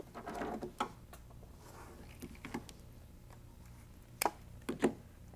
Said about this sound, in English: we can serge right off the corner, and that should give us a miter